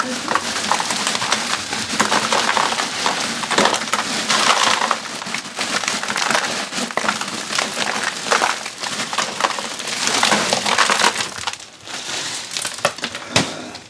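Ice cubes crunch and clatter steadily as they are shoveled into a bag while cooking crabs Maryland style, a continuous loud rattling with brief pauses, some spilling onto the floor.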